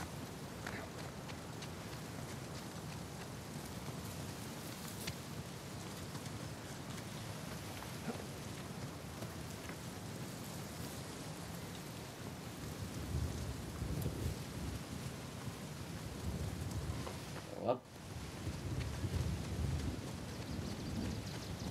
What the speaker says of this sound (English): And it's getting stormy. The storm's brewing.